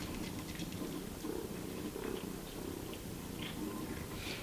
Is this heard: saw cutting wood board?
no